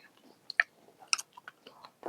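Crunchy kacang koro (broad bean) snacks chewed close up, a few separate crisp bites and crunches spread over a couple of seconds, fairly quiet.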